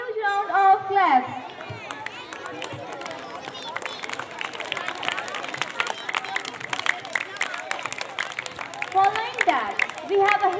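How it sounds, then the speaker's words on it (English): Audience applause and clapping at a school Christmas celebration at St Francis School, steady crowd clapping throughout with a speaking voice heard at the start and end. "Give them a huge round of claps."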